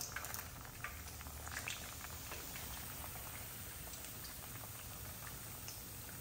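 Green beans bubble in a pot of boiling water, giving a faint, steady, close-up seething and popping that continues without a break and with no voices.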